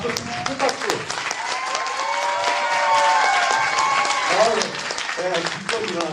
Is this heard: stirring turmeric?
no